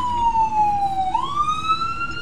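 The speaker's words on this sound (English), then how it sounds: "Why do I hear ambulance?" An ambulance siren in the game Dead Space sweeps down in pitch then rises again, steady and fairly loud over a low rumbling background, with no talking.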